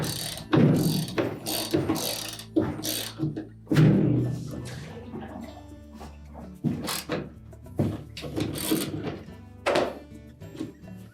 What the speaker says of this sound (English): So using a 1/2-inch socket, we'll loosen that bolt.